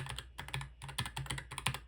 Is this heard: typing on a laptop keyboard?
yes